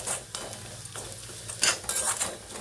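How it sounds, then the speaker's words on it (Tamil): Ingredients being sautéed in a pan for sambar rice, with a soft sizzle under intermittent scraping and clinking of a spoon against the pan, stirred in irregular bursts, close by and fairly quiet. "அதையும் போட்டு நல்லா வதக்குவோங்க."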